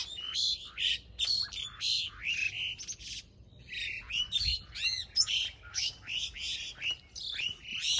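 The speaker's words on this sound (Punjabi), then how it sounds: "ਅਤੇ ਨਾਲ ਚਿੜੀਆਂ ਦੀ ਆਵਾਜ਼ ਸੁਣੋ" Sparrows chirp busily outdoors in the early morning, with a steady stream of close, bright tweets and short trills overlapping one another, continuous throughout and without any talking.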